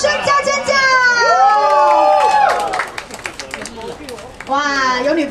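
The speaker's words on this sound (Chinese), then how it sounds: "掌声加尖叫！" Audience cheering, shouting and clapping at a Street Fighter V gaming tournament prize ceremony, a lively, sustained crowd roar with voices rising over it throughout.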